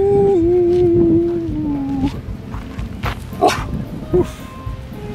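A few sharp dog barks and yips ring out a short distance away, with a steady whine and background rumble underneath.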